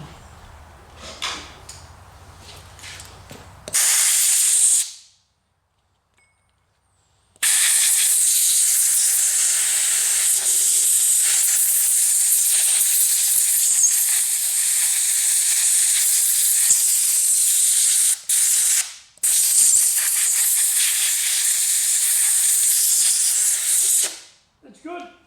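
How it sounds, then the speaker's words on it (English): Compressed air hisses loudly in long blasts while cleaning out a chainsaw sprocket, with a quiet gap after the first short burst and a brief break near the end. "We get a bit of air in there, blow that out."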